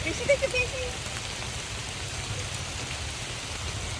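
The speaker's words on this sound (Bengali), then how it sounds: "এমন সময় বৃষ্টিটা শুরু হয়ে গেল" Steady rain falling in a mango orchard makes an even, moderate hiss that runs through the whole clip, with a couple of brief faint sounds near the start.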